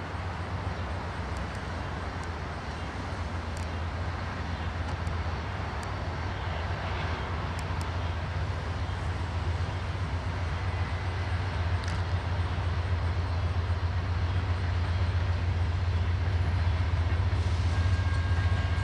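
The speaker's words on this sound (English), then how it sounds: "Here's a choo-choo." A Norfolk Southern freight train passes in Austell, Georgia with a steady deep locomotive rumble and continuous wheel roar that slowly grows louder over nearly twenty seconds, with no voices.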